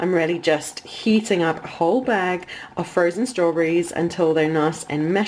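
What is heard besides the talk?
No distinct noise like a dog, phone or traffic.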